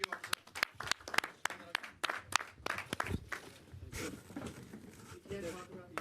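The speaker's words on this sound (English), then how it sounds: "Let's give her a round of applause." A crowd applauds in scattered bursts of clapping at a mayoral press conference, fairly faint and uneven, with voices chattering underneath as the applause thins out.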